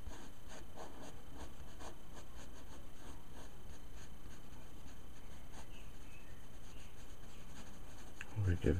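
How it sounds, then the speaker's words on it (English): A fine ink pen scratching over paper while inking a creature drawing, producing steady, close, quiet rubbing strokes that repeat in an even rhythm. "I need to start going back through this fine ink pen"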